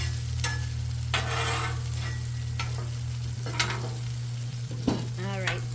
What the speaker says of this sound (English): I'm just going to go ahead and mix those mushrooms in with the pasta.